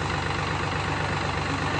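A tractor engine idles steadily at close range, a continuous low rumble that holds unchanged throughout with no voices.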